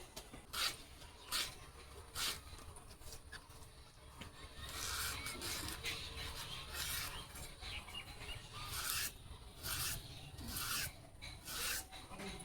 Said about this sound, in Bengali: দেখো মা কিন্তু কাটতে বসে গেছে